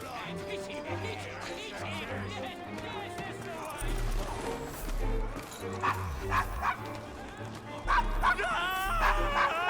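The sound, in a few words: dog barking in video game Assassin's Creed Syndicate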